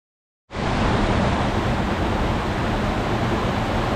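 A canyon waterfall's rushing water bursts in suddenly after a brief silence, then holds as a dense, steady, loud roar with no voices.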